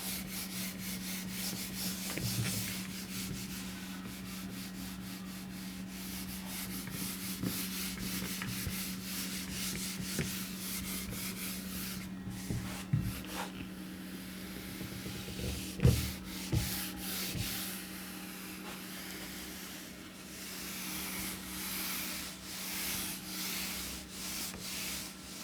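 Writing being rubbed out on a classroom board, a faint continuous scrubbing and rubbing with uneven strokes and a few sharper knocks, over a low steady hum and with no talking.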